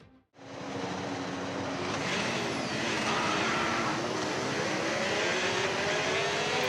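Video game Formula 1 race cars pulling away on the formation lap: after a brief hush, a loud, steady engine roar sets in and holds, with rising whines layered through it.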